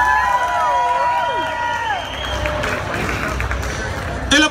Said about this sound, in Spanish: ¡Que se escuche fuerte el aplauso,